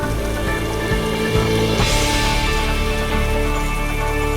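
Steady rain in a beekeeping video game, a dense, constant patter of falling drops over sustained background music tones, fairly loud and even throughout with no talking.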